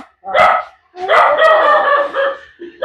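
A dog in a Jaffna village barks loudly and close by: one short bark, a pause, then a longer, drawn-out yelping bark that fades before a brief final yip.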